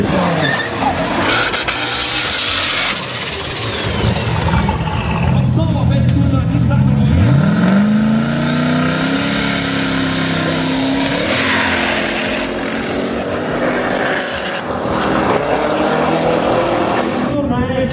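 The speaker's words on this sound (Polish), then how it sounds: "Zaraz Michał będzie jechał swoim Nissanem 350Z Extremely Modified." A heavily modified Nissan 350Z and other drag cars roar and rev past with rising pitch at a quarter-mile drag strip in Arad, Romania, with a crowd-filled outdoor atmosphere and voices talking over the noise.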